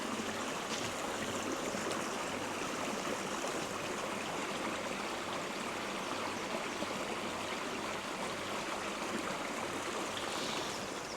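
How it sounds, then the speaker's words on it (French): A small, peaceful stream runs through fields in Brittany, its water flowing in a steady, close, continuous babble and rush that holds even from start to finish with no voices over it. "Voilà, je suis arrivé au petit ruisseau"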